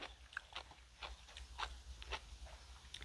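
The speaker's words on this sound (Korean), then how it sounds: "김장김치 얻어 먹어보겠습니다." Someone chews a mouthful of homemade kimjang kimchi in a rural village house, giving faint, close crunching bites in an uneven rhythm over a quiet low background.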